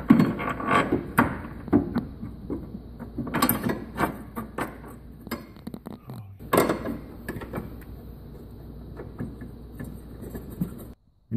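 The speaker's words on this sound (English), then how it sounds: "and then reinstall the bolt." Metal bolt being threaded back in by hand through a washer and bracket while fitting a rigid collar on a Hyundai Genesis Coupe, a run of close clicks, ratchety scrapes and taps coming in bursts.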